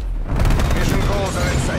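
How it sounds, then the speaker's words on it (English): A flashbang grenade goes off in Call of Duty Cold War, a loud boom with a dense burst of bangs and rumble that lingers briefly, under game voice chatter. "Hold fire. Flashbang going out."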